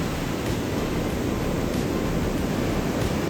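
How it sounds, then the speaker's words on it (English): Surf rolls and breaks continuously on the beach at Barra da Lagoa in Florianópolis, Brazil, a steady, loud wash of ocean waves filling the whole stretch without pause. "Looks like it's a good waves for surfers here today."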